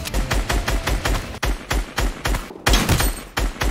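Rapid gunfire from a video game, a dense run of loud, repeated shots in quick succession with heavy low thumps, broken by a brief pause partway through before the firing resumes.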